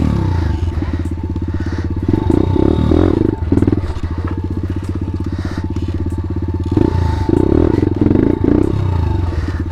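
Pit bike engine on a Grom-style machine revving loudly and steadily, throttle rising and falling in repeated surges across the whole stretch, close up with no talk.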